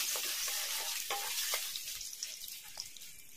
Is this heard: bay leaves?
yes